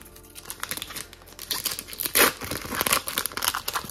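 Crinkly foil wrapper of a Pokémon card booster pack being torn open by hand, a close, uneven run of crackling rustles and rips with no talking.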